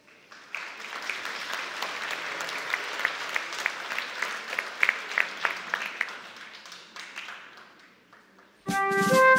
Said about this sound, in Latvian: sagaidām atkal ar aplausiem